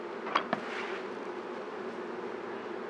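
Honey bees buzzing around hives being moved, a faint steady hum with two brief knocks near the start.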